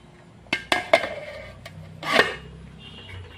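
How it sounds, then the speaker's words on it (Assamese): A metal lid clanks onto a pan of egg bhurji curry during cooking, with several sharp clinks in quick succession, then a rattling scrape as it settles, close and clear with no talk. "আৰু এতিয়া 5 মিনিটৰ কাৰণে ঢাকি দিম"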